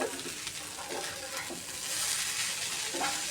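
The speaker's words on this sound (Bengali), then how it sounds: "ভালোভাবে নেড়ে এটাকে আমি ভাজা ভাজা করে নিছি" Steady sizzling and frying of potatoes with liver in a pan, with periodic scraping and stirring strokes every second or so, close by.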